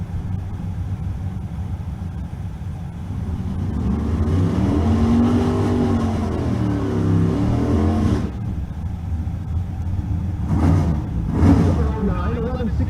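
A Pontiac GTO drag car launches at a Nebraska drag race, its engine rising into a loud roar that climbs and fades. A commentator talks over it, and more engine bursts follow near the end.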